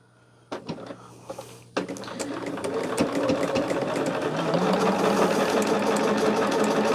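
A few knocks and clatters give way to a home sewing machine running steadily, its motor humming and needle chattering continuously while stitching quarter-inch seams on a bag.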